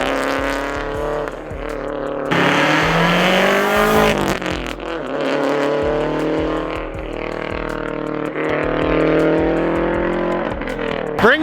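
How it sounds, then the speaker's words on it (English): Subaru car with a newly fitted loud aftermarket exhaust, revving and accelerating close by in repeated rising pulls with raspy engine drone and crackles, loud throughout without talk. "I just got a new exhaust for this thing"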